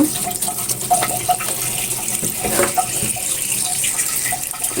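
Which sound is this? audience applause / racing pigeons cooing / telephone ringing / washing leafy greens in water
washing leafy greens in water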